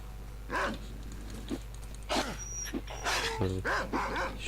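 Dogs in the video game S.T.A.L.K.E.R. Call of Pripyat bark and yelp in several sharp bursts, some overlapping, with whimpering yips and game effects behind.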